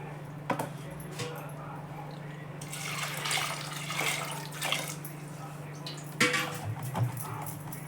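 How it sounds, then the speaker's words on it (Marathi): Water sloshes and swishes as soaked sago is rinsed in a vessel, with scattered clinks of a pot or bowl, a low steady hum beneath, fairly quiet and close. "दुसरं थोडंसं पाणी घालून धुवून घेते"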